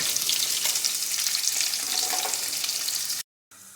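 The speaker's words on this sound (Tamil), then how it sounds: "வெங்காயம் நல்லா பொன்னிறமாக வதங்கட்டும்" Onions frying in a pan for an oyster mushroom gravy, a steady, close, hissing sizzle that continues without pause, then cuts out briefly near the end before resuming more quietly.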